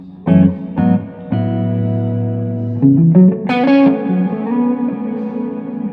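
An Ibanez electric guitar on the front pickup with the volume up plays notes and chords with a clean tone, each ringing out and trailing into a lush reverb wash, with no voices.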